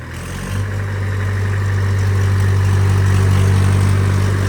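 A small tractor pulls a single harrow across farmland, its engine a steady, loud, low drone that swells at the start and then holds close and constant.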